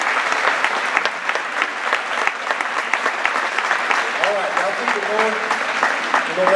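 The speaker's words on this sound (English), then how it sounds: "y'all give them one more big round of applause" A school assembly audience claps and cheers in a high school gym or auditorium, dense continuous applause close by, with voices rising through it toward the end.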